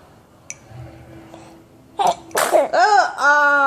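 A young child sneezes while eating breakfast on a couch, a few sharp bursts followed by wet sputtering and whiny vocal sounds, close and loud, after a quiet start with faint background noise.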